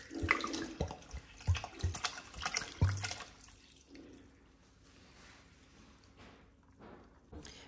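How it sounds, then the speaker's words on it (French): Water streams into a Thermomix bowl for a chorba frick soup of green wheat, a splashing pour that is loud at first, then tapers to a soft trickle and quiet drips. "À présent, je viens rajouter de l'eau jusqu'au niveau max."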